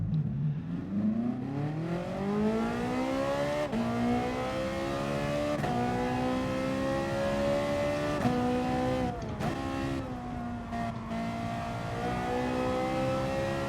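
A race car engine in Gran Turismo Sport revs and climbs through gears at Bathurst, rising pitch then dropping at each shift, loud and continuous with brief cuts near the end.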